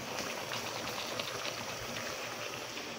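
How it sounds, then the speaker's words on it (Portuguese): Water heating in a pot on a home kitchen stove, a quiet steady bubbling and hissing with faint irregular pops, no talking. "Vou colocar um pouco de água aqui já para ir fervendo"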